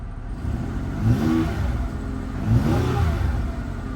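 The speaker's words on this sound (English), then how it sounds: "Give it a little rev here." A manual-transmission Ford Escape at an auto auction revs up twice in quick succession, a loud mid-pitched engine swell over a steady idle, close by with no talk.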